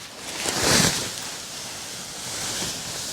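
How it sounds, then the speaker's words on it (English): Strong wind at a paragliding landing site buffets the microphone in a roaring rush, swelling early and then settling into a steady blustery noise. "now it is very windy now"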